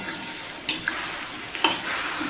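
Chicken fries with onions in a pan while being cooked down, giving a soft, quiet sizzle under a few sharp clinks and scrapes of stirring. It sounds close and gentle, with no talking.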